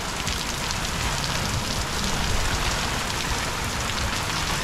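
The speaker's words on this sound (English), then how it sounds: "We got flooding rain. We have a storm microburst over us" Heavy rain from a storm microburst pours down in a dense, unbroken roar of drops hitting surfaces. It is loud and close, with no talking.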